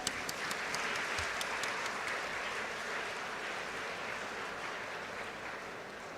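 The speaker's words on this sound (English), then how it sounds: "Please give a big round of applause." Steady applause from a large audience fills a university convocation hall, a broad even wash of clapping with a few sharper claps early on, continuing unbroken.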